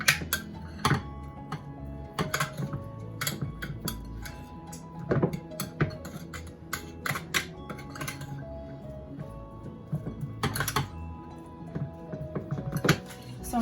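A Parmesan cheese mixture stirred in a bowl, with steady clinking and scraping of a utensil against the bowl in an irregular rhythm, close and moderately loud, with occasional sharper knocks throughout.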